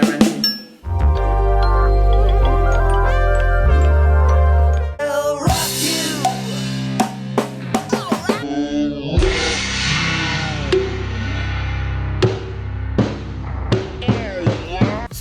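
Drum kit fill at a tempo of 80 in a grade-level lesson: a rapid run of sharp, close strikes and cymbal crashes following a sustained, loud section.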